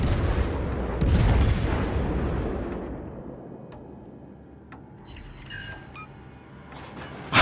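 Heavy naval guns of the German cruiser Hindenburg boom in World of Warships, a loud burst of gunfire that decays into a rumbling tail, followed by scattered fainter game sounds.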